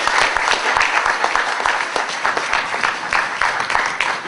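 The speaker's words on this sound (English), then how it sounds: "Could you please give this brother a round of applause" A crowd gives a round of applause for a guest from Amsterdam at a lecture by Dr Booker T Coleman, with brisk, close and loud clapping of many hands, individual claps standing out in an even, continuous stream.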